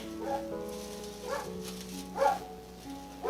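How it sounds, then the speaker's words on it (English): A neighbor's dog barks several times in the distance, faint, irregularly spaced yips carrying from outside during a wreath-making session, with a low household hum underneath. "And that is my neighbor's dog that's barking."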